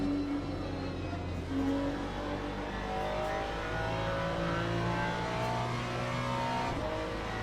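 Hypercar engines race around Monza in the Le Mans Ultimate sim, a steady mid-level roar of cars with occasional revving and shifting tones, continuous and without speech.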